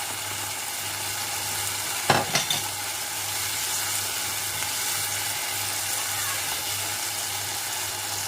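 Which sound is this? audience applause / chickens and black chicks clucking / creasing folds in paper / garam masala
garam masala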